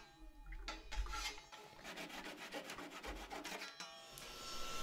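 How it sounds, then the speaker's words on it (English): A pull saw cutting glued wooden dowels flush, with quick rhythmic rasping strokes close by and fairly quiet, in a workshop while building a desk. "after the glue had dried, I cut them flush with a pull saw"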